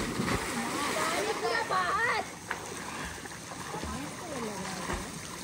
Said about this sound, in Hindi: अरे देखो पानी भारी आ रहा है।